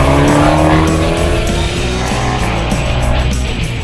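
Abarth cars run hard down a racetrack's front stretch, engines roaring loud and close with rising, shifting pitch and some tire squeal, a continuous blare that fills the whole moment.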